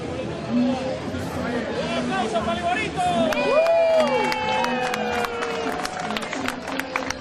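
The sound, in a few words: crowd clapping for a mascot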